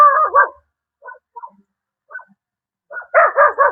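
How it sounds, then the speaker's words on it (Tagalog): A dog barks in short bursts, a few sharp barks, then quieter yips, ending with a louder run of rapid barks close by. "Kikita niyo yung aso na yan. Tumatahol na."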